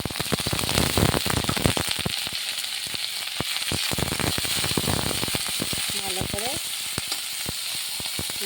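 Dried fish fries in a pan with loud, continuous close crackling and sizzling, and utensils clatter as it is stirred. A voice speaks briefly over it.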